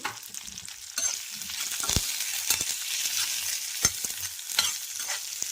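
Ivy gourd pieces fry with turmeric and mustard seeds in a pan, giving a soft continuous sizzle broken by a few sharp scraping stirs, close by, with no talk.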